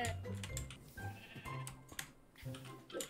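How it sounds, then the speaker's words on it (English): Sheep in the video game Minecraft bleat several times close by, with short wavering calls scattered among quieter game sounds. "there's literally so many sheep around"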